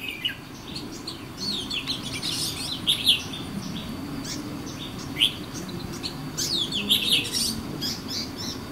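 Magpie-robin singing outdoors in the countryside, with short bright whistled notes and chirps repeating at irregular intervals, moderately loud over a steady low background rumble.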